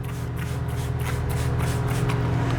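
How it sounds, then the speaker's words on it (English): A spray bottle mists a dilute solution over an orchid flask, giving several short hissing bursts in quick succession at close range. "I'm just going to spray this down"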